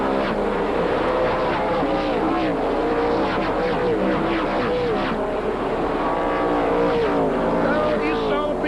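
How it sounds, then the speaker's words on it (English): Race cars of the 1996 Slim Jim All Pro Series roar around Bristol Motor Speedway, a dense continuous engine drone with shifting pitch as cars pass close by, while an announcer talks over it. "Ron Young speeds away with Mike Cope in close pursuit."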